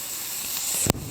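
Steaks sizzling on an outdoor barbecue grill at a cabin at night, a steady close hiss with a brief sharper crackle near the end.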